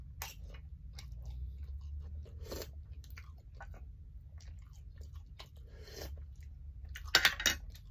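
Someone eats spicy Thai pork bone soup with lime and chilies, close quiet chewing and slurping with sporadic crunches and a few sharper clinks near the end over low background hum.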